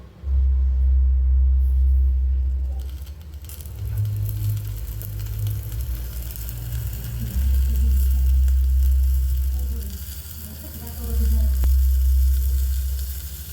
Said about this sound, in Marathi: आता बटर जे आहे ते मेल्ट करून घेऊया चांगलं